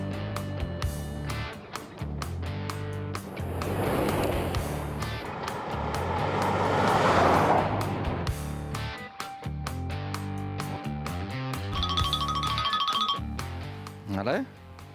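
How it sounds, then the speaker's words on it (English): A VPUV off-road vehicle accelerates down a track while towing an Explorer on a 4x4 show. Its engine drone rises and shifts in pitch under nearly constant talking voices. "The slightly popular VPUV races down the track with that Explorer in tow."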